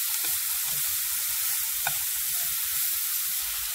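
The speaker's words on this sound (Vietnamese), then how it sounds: "Các bạn xào vài vòng mà các bạn thấy củ sắn nó đã mềm xuống rồi các bạn" Shredded jicama stir-fried in a hot pan for bò bía filling gives off a steady, close hiss of sizzling with faint scrapes of stirring underneath.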